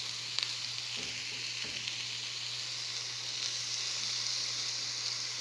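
Ground meat for kofta meatballs frying in a pan over low heat, giving a steady, even sizzle and crackle with a few faint stirring knocks, close and uninterrupted.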